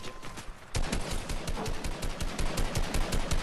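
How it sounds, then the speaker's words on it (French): Rapid automatic gunfire in a Fortnite battle royale match, a dense run of sharp repeated shots starting abruptly and continuing steadily, fairly loud with no talk over it. "Y'a un mec qui tire."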